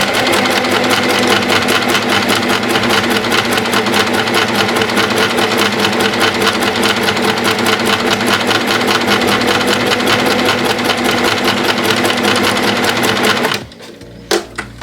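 An Empisal sewing machine stitches fast and steadily with a loud, close, even mechanical whirr of rapid needle strokes, then stops abruptly near the end, leaving a couple of faint clicks.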